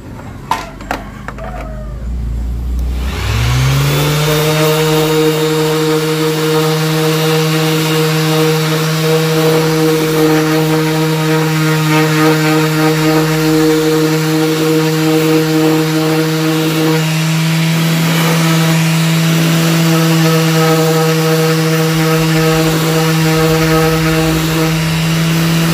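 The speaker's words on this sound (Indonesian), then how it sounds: "kita bisa sanding lagi bagian panel yang lain yang masih memerlukan proses amplas grade yang sama, grade di 240 ya." A power sander runs steadily on a wooden panel with 240-grit sandpaper, starting after a few knocks and holding a loud, continuous droning whine that shifts slightly in pitch partway through.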